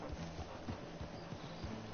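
A horse's hooves clop behind the player in the video game Red Dead, a soft, irregular run of low thuds heard close up beneath continuous background noise.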